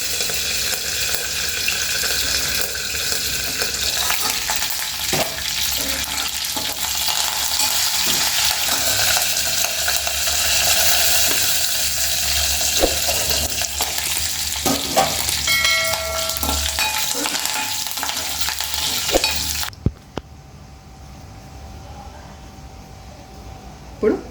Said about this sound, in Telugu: చిట్టపట్టు ఉంటుందని మూత పెట్టేసినాం